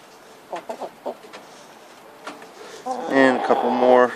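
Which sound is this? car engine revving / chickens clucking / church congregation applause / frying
chickens clucking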